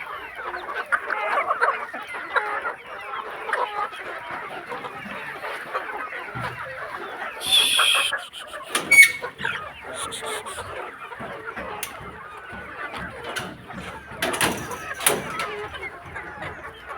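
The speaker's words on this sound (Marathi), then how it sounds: "असं हे कुकुड पालन केलं आहे पाचशे कोंबड्याचं" Many chickens cluck continuously in a busy flock of about five hundred birds on a poultry farm, with occasional louder squawks and flapping rising above the steady chatter.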